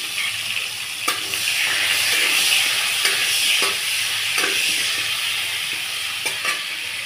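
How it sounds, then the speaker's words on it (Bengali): Potatoes fry in hot oil in a kadai with a constant, close crackling sizzle, broken by a few sharp scrapes and taps of a stirring spoon. "এবার ওই তেলের মধ্যেই কিন্তু আমি আলুগুলোকেও কিন্তু লাল লাল করে কিন্তু ভেজে তুলে নেব।"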